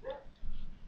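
A pet dog gives a short bark or yelp, close and moderately loud, during a game session, one quick burst in under a second.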